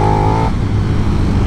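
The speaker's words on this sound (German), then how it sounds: "Was man so krass hört, ist das Ansauggeräusch, nicht der Auspuff." Intake noise from a 2021 KTM 1290 Super Duke R engine, a loud, close, gruff roar with a brief higher tone at the start, then a rough steady drone.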